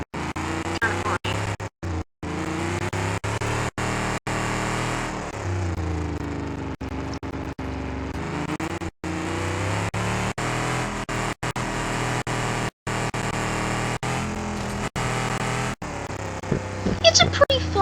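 A car engine built on early-to-mid 1960s technology running continuously, a steady rough hum and rumble at close range, broken by a few brief dropouts.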